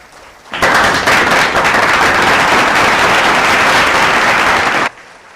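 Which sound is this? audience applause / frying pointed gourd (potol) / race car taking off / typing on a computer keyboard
audience applause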